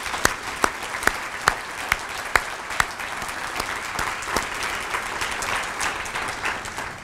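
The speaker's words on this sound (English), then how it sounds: "I would just like you to join me in a round of applause for our wonderful employees." An audience at a 2015 State of the City address applauds city employees, with sharp scattered claps at first that thin and fade into a softer patter.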